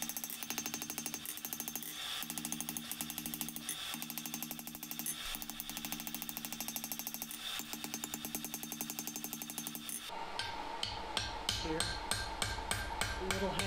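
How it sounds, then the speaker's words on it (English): A heavy blacksmith's hammer forges hot steel for a fire poker, striking in rapid, evenly spaced blows. The rhythm shifts to sharper, ringing hits near the end, all somewhat faint and with no talk. "If you see me swinging a big heavy hammer"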